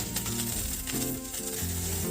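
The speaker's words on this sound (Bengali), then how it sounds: "এগুলো দিয়ে আমি ভালো করে ভেজে নেব।" Capsicum and bell pepper frying in a pan for chilli chicken, a soft continuous sizzle with light stirring scrapes, close and fairly quiet, with no talking.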